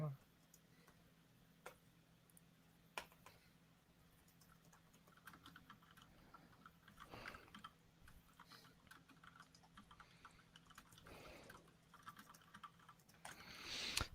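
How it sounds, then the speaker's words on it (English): Keys tapping on a computer keyboard at a convention gaming table, soft scattered clicks in short bursts under a steady background hum and occasional nearby voices. "let me finish typing up my answer there so I don't forget it"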